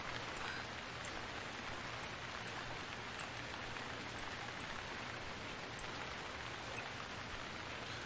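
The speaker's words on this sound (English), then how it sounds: "And of course it starts raining once again." Rain falls steadily in the survival video game Stranded Deep, a constant soft hiss of rainfall with faint scattered drop ticks, fairly quiet and with no talking.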